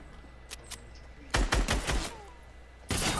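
Bursts of rapid gunfire in a Fortnite match, a short loud volley followed by another burst near the end, with faint quieter shots earlier.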